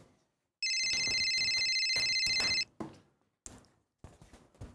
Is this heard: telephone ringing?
yes